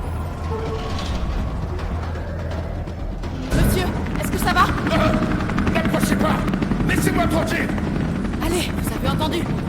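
A helicopter in the video game Resident Evil 3 remake beats steadily and loudly through the second half with sharp bangs mixed in, after quieter game ambience at the start; voices speak over it.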